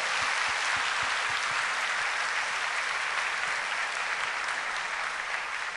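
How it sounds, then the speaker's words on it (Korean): A church congregation gives a blessing round of applause for a visiting family of nine, a thick, even roar of many hands clapping continuously at close range, with no break. "우리 축복의 박수 한번 해주세요"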